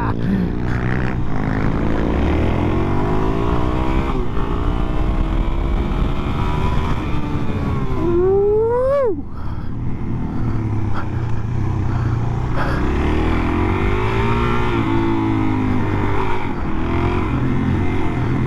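A supermoto motorcycle accelerates hard on a track in Riverside, the engine loud and close, climbing through the revs with a sharp pitch sweep, then pulling on steadily with wind noise.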